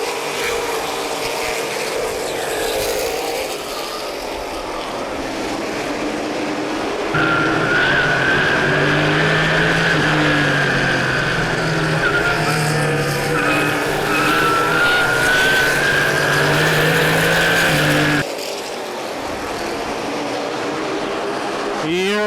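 Stock race cars run a short oval at Plymouth Speedway during a CRA Super Series 125-lap event, a steady loud engine roar that swells and holds as the field goes back to green, with commentary over it.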